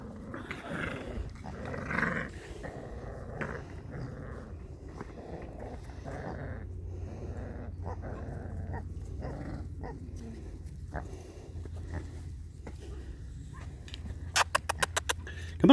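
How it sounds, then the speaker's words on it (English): Puppies growl low and continuously, with a few short sharp yips and scuffles near the end, nearby and fairly quiet. "Oh, good old doggies."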